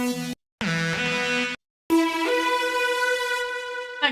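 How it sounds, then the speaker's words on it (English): A bright saw-wave synthesizer plays sustained buzzy notes in short bursts separated by gaps, then a longer held tone with shifting pitch, clean and upfront. "We've got a saw sound."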